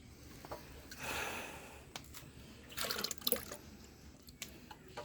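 Dirty, muddy water drains from a car radiator being replaced at home, splashing and dripping irregularly in soft bursts, fairly quiet and close.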